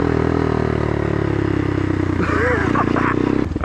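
A Honda Grom motorcycle fitted with dual rear wheels rides along a street, its small engine droning steadily and loudly up close with rattling clatter, while a voice talks over it toward the end.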